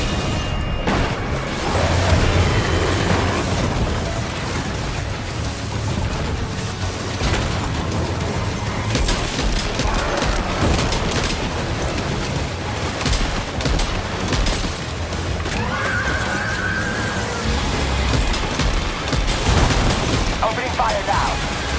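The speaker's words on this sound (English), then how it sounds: "Opening fire now." Gunfire in the Death Stranding 2 video game, a continuous barrage of shots and booms layered under game noise, with a voice speaking at points.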